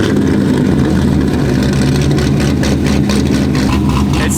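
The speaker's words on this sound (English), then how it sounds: "It sounds good at idle." A loud, deep straight-piped Corvette Z06 engine idles steadily with a throbbing low rumble, a slight rise near the end, close and unbroken throughout.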